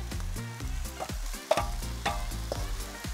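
Chopped sweet pepper and plenty of onion go into meat stewing in a kazan for Caucasian chashushuli, giving a soft sizzle with stirring scrapes and clinks running throughout.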